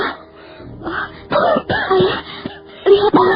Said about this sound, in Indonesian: Batuk-batuk ayah mengeluarkan darah.